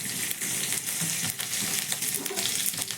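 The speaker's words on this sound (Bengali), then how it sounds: "দিয়ে দিচ্ছি সামান্য একটু গোটা জিরে। তারপরে দিয়ে দিচ্ছি একদম অল্প পরিমাণ একটু কালো সর্ষে।" Cumin and black mustard seeds frying in hot mustard oil give a steady, close sizzle with a dense crackle that runs on unbroken, and there is no talk over it.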